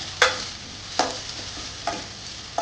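Pieces cooking in oil in a pan while ragi soup is prepared, heard as a few separate stirring scrapes and brief sizzling bursts at spaced intervals over a quiet, steady background hiss.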